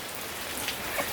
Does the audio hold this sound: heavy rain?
yes